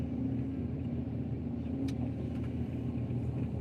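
A Kobelco SK140XM excavator's diesel engine runs at a steady, even rumble with a low hum throughout, close by and continuous, no voices.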